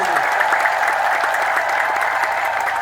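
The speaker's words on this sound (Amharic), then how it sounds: "እስቲ እግዚአብሔርን ከፍ ባለ እልልታና ጭብጨባ መስግኑት" A church congregation praising God with sustained, loud, dense applause that fills the space evenly from start to finish.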